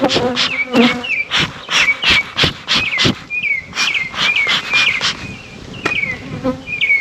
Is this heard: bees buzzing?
yes